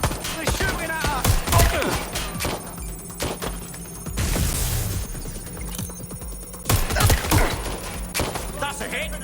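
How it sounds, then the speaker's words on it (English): Gunfire in the video game Watch Dogs Legion: repeated sharp shots and bursts spread through the clip, with a louder volley near the middle, mixed with game sounds and shouting voices. "Shots fired! Shit! They're shooting at us!"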